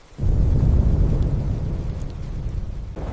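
Deep, sustained rumble of thunder during a storm over open grassland, loud and rolling for about three seconds before easing slightly, with no voices.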